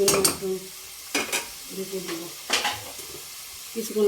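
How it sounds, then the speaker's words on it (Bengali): Shrimp being stirred and mixed into a pan of frying food, with a few separate bursts of scraping and a light sizzle underneath, fairly close. "দিয়ে নেড়ে চেড়ে মিশিয়ে নেব।"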